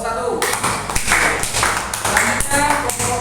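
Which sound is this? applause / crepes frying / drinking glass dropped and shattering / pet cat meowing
applause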